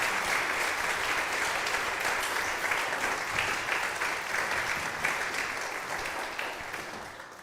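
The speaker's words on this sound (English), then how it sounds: "Let's give them a round of applause." A concert audience in Old Lyme applauds the Dal'Ouna Ensemble, a steady, dense wash of many hands clapping at close range that fades slightly toward the end, with no talking over it.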